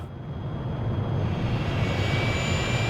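A Tu-144 aircraft taxis in the city-building game Workers & Resources: Soviet Republic, giving a steady, dense jet-engine roar that holds at an even loudness throughout with no break.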